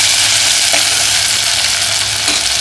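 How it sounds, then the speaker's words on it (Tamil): Chopped onions with green chillies and garlic sauté in a pan for a Tamil kuzhambu, giving a continuous loud sizzle and crackle with faint stirring, and no voices. "நல்லா வெங்காயம் வதங்கிடுச்சுங்க."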